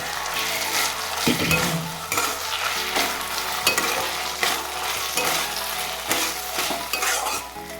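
Garlic frying in a pan is stirred around, a loud continuous sizzle broken by repeated scraping and clinks of a spatula against the metal, with no speech.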